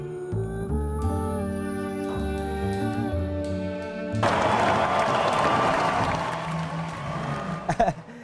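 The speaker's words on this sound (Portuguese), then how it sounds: "Estes aplausos são para si, Guanaense" Audience applause breaks out for a guest at a creative-market television event, a broad steady wash of clapping that follows sustained music and runs loud to the end.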